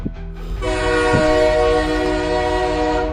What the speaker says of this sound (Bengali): ঠিক তখনই ট্রেন হঠাৎ আবার ঝাঁকুনি দিয়ে ছুটতে শুরু করলো।